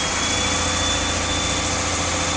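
A small engine-driven water pump with a pressure relief valve runs at about 130 PSI on a small hose, producing a loud, constant droning engine roar with steady vibration and no talk.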